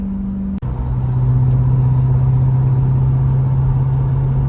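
A Ford Raptor R running an E85 tune drives with a steady, loud engine drone that climbs slightly in pitch after a brief dip, holding a strong, even tone throughout.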